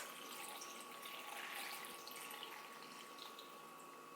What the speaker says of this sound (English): I'm just going to pour through the top like this.